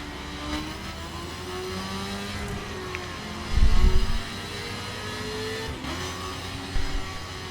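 A Ford Raptor pickup truck drives fast on a winding road, its engine droning steadily with a few deeper surges of revving, heard from nearby in the game The Crew: Wild Run.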